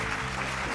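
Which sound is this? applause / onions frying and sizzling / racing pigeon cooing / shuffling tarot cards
applause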